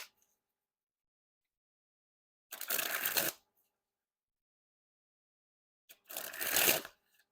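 Black Lions Seconds playing cards sprung from hand to hand in two separate bursts of rapid, crisp fluttering, each lasting under a second, close and alone against silence.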